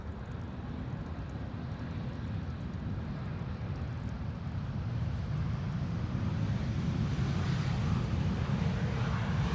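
An EasyJet airliner arriving on the runway at Amsterdam Schiphol rumbles with a low, continuous engine roar that grows a little louder toward the end, heard alone without speech.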